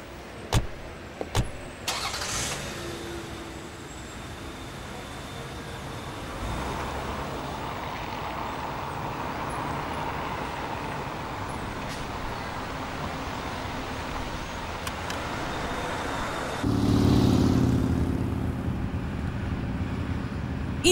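A car's engine hums steadily nearby with a few sharp knocks at the start, wind-like rush throughout and a louder swell near the end; no one speaks.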